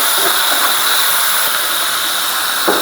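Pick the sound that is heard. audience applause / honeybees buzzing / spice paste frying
spice paste frying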